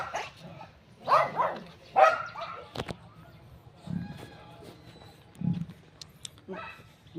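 Dogs at a zoo give several short barks and yips at moderate distance, coming in separate bursts with gaps between them.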